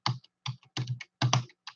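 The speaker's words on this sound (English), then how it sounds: "I'm going to open up a browser page and type" Typing a web address on a computer keyboard: quick bursts of close, crisp key clicks in uneven clusters over under two seconds.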